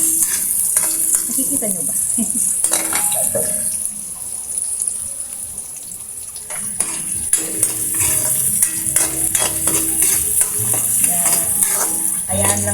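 Ingredients sautéing in a pan with steady sizzling, broken by repeated scrapes and clinks as a utensil stirs them, heard close up. Someone talks briefly over the cooking.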